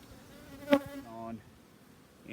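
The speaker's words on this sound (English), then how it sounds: "a lot of bees" Honey bees buzz softly up close at a packed hive, a brief louder buzz rising over a quiet, humming background of insects.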